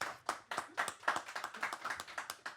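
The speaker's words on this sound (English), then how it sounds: "I think that deserves a round of applause, guys" Hand clapping from a small group indoors: sharp, distinct claps in a quick, uneven rhythm, close and fairly loud, with no speech over them.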